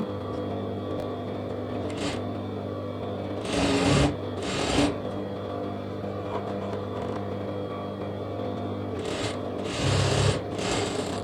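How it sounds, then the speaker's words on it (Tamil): A sewing machine top-stitching a blouse lining, a steady close whirring drone with a few short louder bursts. "லைனிங் இந்த பக்கம் திருப்பிட்டு லேசாக ஒரு கீறி விட்டு மேலே ஒரு அமுத்து தையல் ஒன்று போட்டுக்கலாம்"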